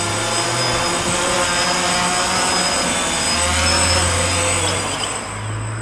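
A DJI Phantom quadcopter drone coming in to land outdoors, its rotors giving a steady, close, whining buzz that wavers slightly in pitch as it descends.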